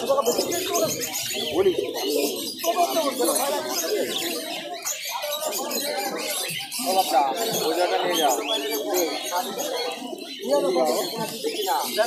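Pigeons coo and flutter-chirp at the Birnagar pigeon market in Nadia, with many birds calling in a dense, continuous chorus under nearby people talking throughout.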